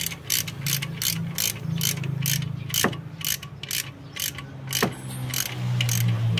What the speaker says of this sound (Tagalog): Pwede na natin na ikpitan yung kanyang bolt para i-press niya yung valve spring.